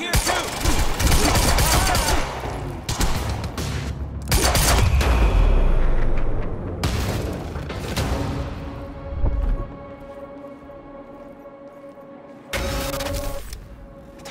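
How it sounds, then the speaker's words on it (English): Rapid bursts of gunfire in the video game Quantum Break, loud volleys of shots in the first half, then scattered reports and a later burst, with ambient game sound between. "You heard the gunfire."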